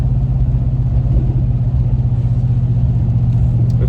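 A 5.3 liter race truck engine with a cold air intake, AFM delete and 6-speed transmission idles with a loud, steady low rumble and even pulsing, close and unbroken, with no talk.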